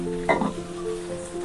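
Aloo-chole tikki fry in hot oil on a tawa, a short bright sizzle that flares as a patty is turned, then settles into a steady low crackle.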